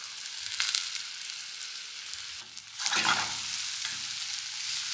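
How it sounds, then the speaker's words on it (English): Pimento, sliced green scotch bonnet pepper and diced carrot sauté in a pan with a steady, close hiss, broken by a few scraping stirs and a louder burst of sizzling midway. "Letting these get a proper saute is essential for building the best flavors."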